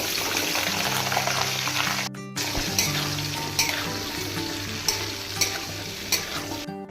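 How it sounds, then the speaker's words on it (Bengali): Potato and cauliflower frying in hot oil in a wok make a loud, continuous sizzle, with a short break, a low hum beneath it and sharp stirring clatters at intervals. No one speaks. "তেল গরম হয়ে গিয়েছে, এবার আমরা আলু ও ফুলকপিটা ভেজে নিব।"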